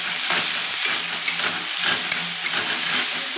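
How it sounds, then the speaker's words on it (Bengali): Eggplant fries in hot oil with salt and turmeric, giving a loud, constant close sizzle and hiss with slight stirring movement and no speech. "দিয়ে এটাকে আমরা ভেজে নেব।"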